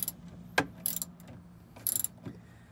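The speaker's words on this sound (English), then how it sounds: "Now it's just a matter of tightening these bolts on the back." Ratchet tightening bolts on the power pole mount of a Triton bass boat, a few short, faint clicking bursts spaced apart over a quiet background, with no talk.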